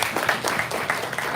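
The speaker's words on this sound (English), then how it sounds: "Yeah, here's a clap." A small audience at an in-person author book event claps together, a steady, dense patter of many hands at moderate loudness with no voices over it.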